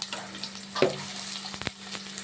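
Chopped onion dropped into hot oil in a kadai, with a short burst of frying sizzle and a few stirring clinks, close and moderately loud, no voices.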